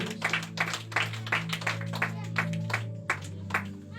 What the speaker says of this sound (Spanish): denle un fuerte aplauso para Él